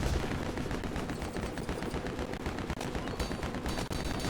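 Rapid gunfire in the LEGO Batman 2 video game, bursts of quick repeated shots running for several seconds at low game volume, with no talk over them.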